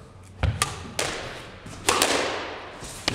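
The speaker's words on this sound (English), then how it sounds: "That's a beautiful drop shot." Squash ball struck in a cold-ball coaching drill, a few sharp thuds at moderate distance: racket hits and the ball smacking the front wall and floor, spaced irregularly in a reverberant court.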